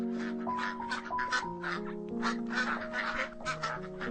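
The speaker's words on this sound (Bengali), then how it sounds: "হাঁসের বাচ্চাগুলোকে ছেড়ে দেয় পোকামাকড় খাওয়ানোর জন্য" Cartoon ducklings quacking in a Bengali folk-tale animation, a busy overlapping chorus of short, nasal quacks over soft background music, fairly quiet and continuous.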